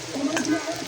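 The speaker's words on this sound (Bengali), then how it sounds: "শাক বাগার দেওয়ার জন্য হচ্ছে আমি পেঁয়াজ আর হচ্ছে শুকনো মরিচ তেলে ভাজতেছি।" Onion and dried chilies sizzle in hot oil for a Bengali greens tempering, a close, short burst of frying crackle with a faint stir midway.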